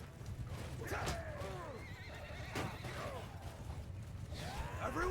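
Horses whinny repeatedly in the middle of a Mount and Blade 2: Bannerlord battle. The neighs rise and fall over a steady din of combat and hoofbeats, with a few fairly close calls and others fainter in the background.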